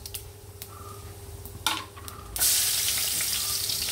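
Cumin seeds and crushed garlic sautéing in oil in a kadai, at first a quiet crackle with a few sharp pops, then a sudden loud surge of sizzling that stays intense.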